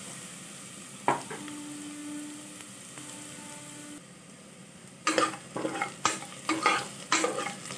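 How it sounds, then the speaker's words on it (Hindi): Onions frying in a pressure cooker for lauki sabzi: a quiet, faint sizzle at first, then a series of close, sharp spoon scrapes and stirs against the metal in the final seconds. "देखिए प्याज भून रहा है, इसको थोड़ी देर और भूनेंगे"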